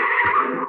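A car skids with a loud, sustained high-pitched tire squeal lasting under a second, staged as a sound effect in a radio drama street scene.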